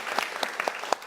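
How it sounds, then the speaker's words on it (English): Applause from an audience at a community author event in DC, scattered individual claps rising above a soft, steady patter of hands, moderately close and unaccompanied by talk. "let's give a round of applause for that"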